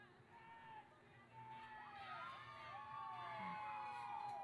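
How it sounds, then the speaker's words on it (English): Rowing crews at a school regatta cheer each other on from the beach, with distant whoops and rising and falling calls spread over a steady outdoor background. "Both crews cheering each other on."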